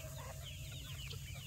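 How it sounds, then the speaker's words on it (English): Chickens on a homestead cluck softly and steadily over a constant low rumble of background noise, with scattered bird calls and no talking. "Chicken"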